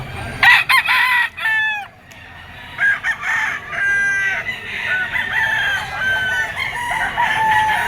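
A three-year-old gray White Kelso gamefowl rooster of the Firebird line crows repeatedly and loudly up close, with short clucks between the crows and other fowl calling faintly in the background.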